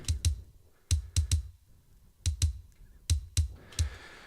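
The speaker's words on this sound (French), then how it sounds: "et voici le son du kick remplacé" Tight, clicky kick drum hits land in short pairs and triplets, each a brief low thud with a bright attack and gaps of quiet between.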